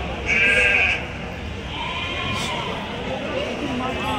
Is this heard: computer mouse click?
no